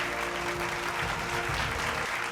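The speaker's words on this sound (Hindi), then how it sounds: "तो एक बार जोरदार तालियां जी भोजपुरी सम्मान 2026 के लिए" Steady applause from an awards ceremony crowd, a dense wash of clapping that holds evenly throughout.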